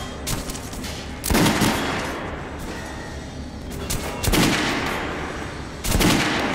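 Weapons fire on a shooting range in the video game Metro: Last Light, with loud, close bursts of rapid shots and heavier single blasts repeating every second or two over a reverberant background.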